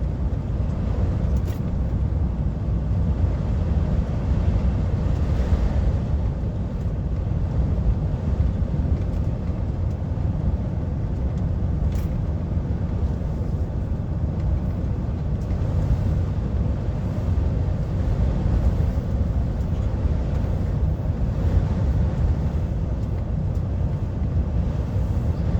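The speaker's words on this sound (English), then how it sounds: "That wind every now and again just picking you up, just catching you and pushing." Steady, loud broadband road roar inside a lorry driving from Granton on Spey toward the A9 at Aviemore in Scotland, with gusting wind blending into the constant rumble and no clear individual buffets.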